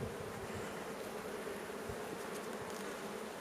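Honeybees buzz steadily around an open hive during a queen search, a dense, continuous drone that stays close and even throughout.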